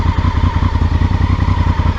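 A Honda Africa Twin adventure motorcycle in gravel mode pulls away on a gravel road on a Virginia afternoon, its engine a steady, close, loud rumble throughout with no talking.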